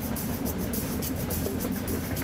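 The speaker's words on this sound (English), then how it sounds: "And there's the two trains." Two trains roll past through an industrial area on the edge of town: a steady, loud rail rumble with a faint rhythmic clack of wheels on track joints throughout.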